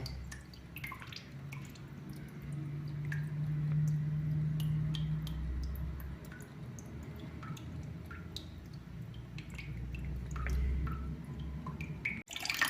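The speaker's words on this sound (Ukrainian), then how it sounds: "Ось тепер починає витікати водичка з цього контура" Water from a newly installed apartment boiler's heating circuit dripping out of the pipes, with scattered small drips and trickles over a low steady hum, quiet and close, without speech.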